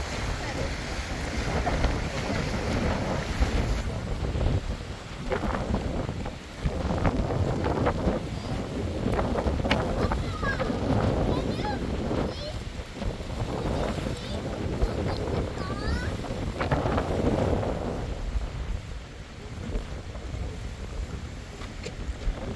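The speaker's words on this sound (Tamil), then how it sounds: "எப்படி காற்றடிக்குது எப்படி அலை அடிக்குது பாருங்க" Strong 45 to 50 km/h wind on Mount Victoria in Wellington roars and buffets the microphone while waves surge and crash nearby, a constant loud rush with talking mixed underneath.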